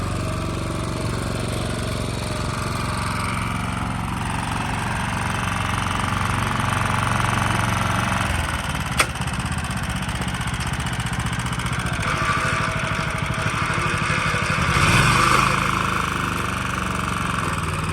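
A Kawasaki AR700 small engine runs loudly and continuously nearby, its steady drone rising slightly as it revs, with a faint click partway through.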